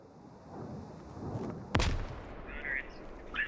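Grenade explosion in the military shooter game SquadOps, a single sharp blast heard at a distance above quiet background noise, followed by fainter scattered gunfire.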